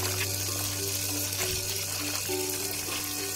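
Water pours and swishes steadily as it is mixed with binahong leaves into a chicken remedy, a continuous close splashing wash with a steady background hum.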